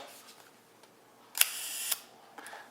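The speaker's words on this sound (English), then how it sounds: "Hear how quiet a leaf shutter is?" A single soft leaf-shutter click from a Yashica Lynx-14 35mm film rangefinder, quiet and brief, followed by a second faint click a moment later in a near-silent room.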